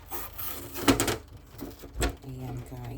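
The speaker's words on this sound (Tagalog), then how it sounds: "Hinihiwa lang natin yung ating bell paper." A knife slices bell pepper at home for kare-kare, with a few crisp cuts and thuds against a board, soft rubbing between them and a voice speaking quietly beneath.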